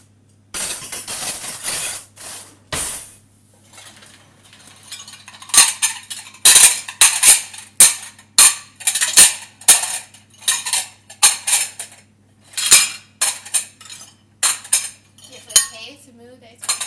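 Dishwashers being emptied at speed, with a rapid run of sharp clinks and clatters of cutlery and dishes, loud and close, in irregular bursts between brief pauses.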